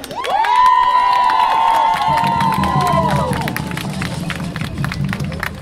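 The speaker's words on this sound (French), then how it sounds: "Applaudissez." A crowd claps and cheers loudly at a radio event. A high, sustained shout or ululation rides over the applause at first, then the noise tapers into scattered clapping and murmur.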